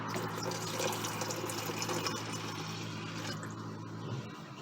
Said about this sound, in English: all you have to do is pour some water in